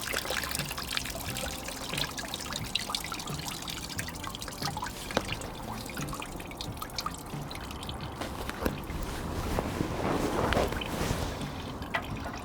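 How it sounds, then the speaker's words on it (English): Coolant draining from a car radiator, a steady liquid trickle and dribble with scattered drips running continuously, moderately close with no talk over it. "It's much easier just to take the coolant out of the radiator"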